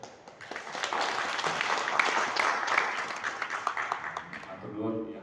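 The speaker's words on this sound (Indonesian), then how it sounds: "Matur nuwun yang tepuk tangan dan juga yang tidak tepuk tangan." An audience in a hall at a government policy information session applauds with dense, lively clapping that peaks early and then thins, before a voice resumes speaking at the end.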